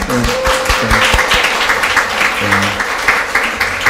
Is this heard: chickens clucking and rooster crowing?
no